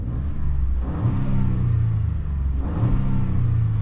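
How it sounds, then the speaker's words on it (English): A 2026 Ford F-150 EcoBoost V6 in sport mode revs up loudly and close by, two strong rising pushes of the engine with a deep rumbling drone between them and no talk. "put it into sport mode and give this thing a little rev test"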